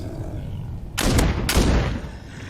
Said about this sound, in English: Ah, I got this shotgun.